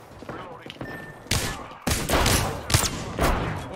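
Video game gunfire, bursts of loud automatic shots arriving in clusters after a quieter opening, close and punchy, with faint voices underneath.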